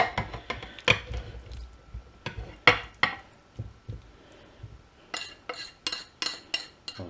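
Marinated meat spooned into a slow cooker dish, a series of close, sharp clinks and knocks of a utensil against the dish, irregular at first and then a quicker run of taps near the end.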